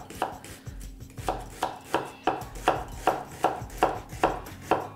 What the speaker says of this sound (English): When you're chopping an onion, just make sure you've got the foot there, and it will keep the onion together as you're chopping it.